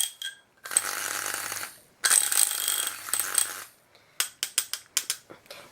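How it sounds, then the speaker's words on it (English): Strawberry cold-process soap batter gets two quick bursts of whirring mixing, followed by a string of sharp clicks and taps. "And I'm gonna give it a quick stir."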